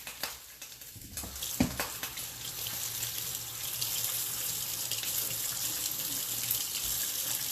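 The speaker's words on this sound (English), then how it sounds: "I use green onions, so I'm gonna rinse them off real quick" Tap water pours steadily into a kitchen sink as green onions are rinsed under it, a close, continuous splashing rush that starts after a brief pause and keeps going.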